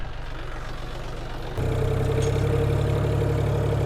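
A tractor engine idles steadily with a low, rumbling drone that grows louder and fuller partway through and then holds at that level; no one speaks.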